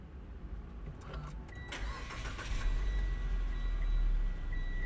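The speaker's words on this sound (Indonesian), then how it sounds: "Gue sekarang mau coba untuk nyalain mesinnya ya." A Mitsubishi Xpander car engine cranks and catches with a short starter whir, then settles into a low, steady idle that swells slightly, heard fairly close and with no talking.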